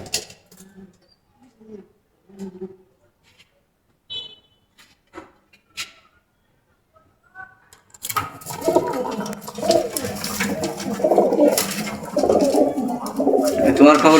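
Pigeons coo inside a farm loft: sparse, soft coos and small knocks at first, then a dense, loud burst of overlapping cooing, wing flutters and scuffling that continues to the end.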